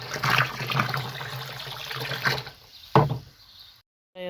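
Water is poured onto pepper plants, a soft trickling splash for a few seconds with a brief louder splash before it stops abruptly.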